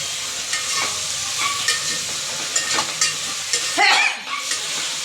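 Tomatoes sauté in a pan for vegetable biryani, a close, steady sizzle broken by repeated spatula scrapes and clacks, with a brief louder hiss of steam near the end.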